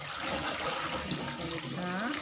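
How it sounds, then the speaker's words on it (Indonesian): Water for fermented ginger pouring steadily into a container, a close, continuous splashing rush. "Dan semua dari air tadi dituang."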